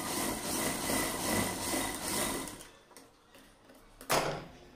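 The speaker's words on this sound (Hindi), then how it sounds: "अब हम यहाँ पर सिलाई लगाते हैं" A sewing machine stitching through doubled velvet fabric runs in a fast steady close whir for about two and a half seconds, then stops, followed by quiet handling and a short sharp clack.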